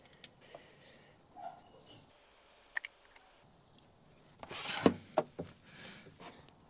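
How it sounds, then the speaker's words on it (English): A 13mm socket loosens the oil filter housing cap on a BMW E30 318is: a few close, dry clicks and one sharp crack near the end, over a mostly quiet background. "we'll just release the cap on the oil filter housing, and then that's going to let all the oil out of the oil filter housing drain back into the sump"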